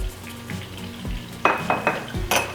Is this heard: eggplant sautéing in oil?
yes